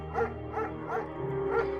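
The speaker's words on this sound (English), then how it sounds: "Mayhem's an excellent dog" A German Shepherd in the video game Firewatch gives four rhythmic barks over a steady low background hum, moderately close and fairly soft.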